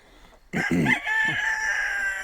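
A rooster crows loudly once, close by, its long drawn-out call ringing clearly over a quiet farmyard background.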